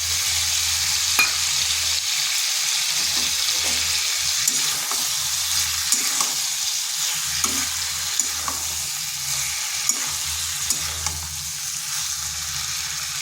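Cashew paste goes into a cauliflower curry frying in a pan, with a soft steady sizzle and repeated scraping stir strokes of a spoon against the pan, close up and with no talking.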